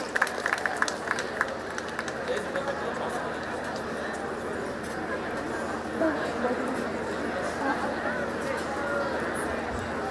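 Sustained applause from an audience at a student prize distribution, a steady wash of clapping with crowd chatter mixed in, holding evenly for about ten seconds without a clear peak.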